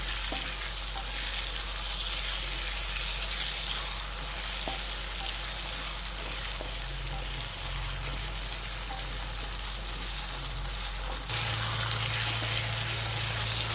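Brinjal curry with dried prawns sizzles in a pan as it is stirred, a loud, continuous frying hiss that stays steady and swells slightly toward the end, with no voices.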